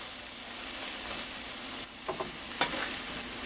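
Sausage, egg and kale frying in a pan, a soft steady sizzle with a few brief scraping and tapping sounds as the food is turned, close and quiet with no talking.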